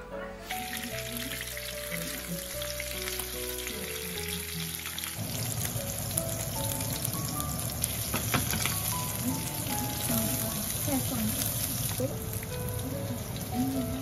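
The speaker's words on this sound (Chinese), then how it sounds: "我们来起锅烧油，放上油，然后把这个鱼呢放进去煎一下" Fish fries in hot oil in a pan, giving a steady, dense sizzle and crackle that runs the whole time, with a faint tonal hum in the background during the first few seconds.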